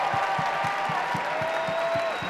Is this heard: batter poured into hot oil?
no